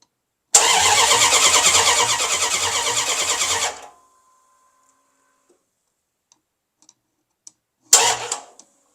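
A car long left sitting for ten years cranks over with a rapid, rhythmic starter whir for about three seconds, pauses in silence with faint ticks, then cranks briefly again, loud and close.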